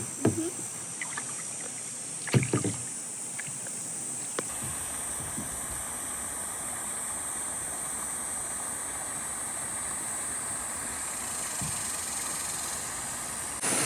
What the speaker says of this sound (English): Kayaking Onion Creek.